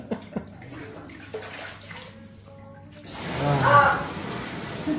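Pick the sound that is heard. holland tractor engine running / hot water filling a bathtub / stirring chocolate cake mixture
hot water filling a bathtub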